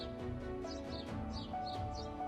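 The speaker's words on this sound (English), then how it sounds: "You can hear the sound of birds." Birds chirp in short, repeated high calls over a steady low hum, moderately faint, on a quiet, empty university campus.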